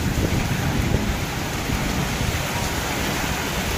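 Heavy, steady downpour hissing and drumming loudly and close, with a low rumble underneath that may be thunder; no voices, a dense continuous wash throughout.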